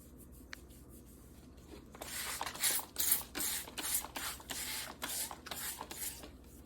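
A spray bottle puffs repeatedly onto curly hair in quick bursts, about a dozen short hissing sprays in an uneven rhythm, close by after a quiet start.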